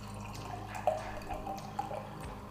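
Homebrew beer poured from a bottle into a glass, a soft liquid trickle with a few small splashy drips rising briefly over steady low background hum.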